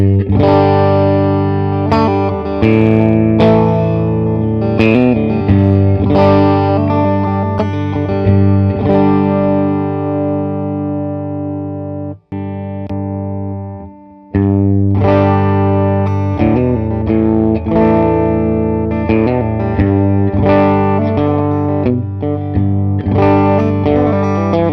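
A Fender Stratocaster electric guitar with all three pickups on at once plays loud, effected and distorted chords and runs, with a brief pause midway before playing resumes.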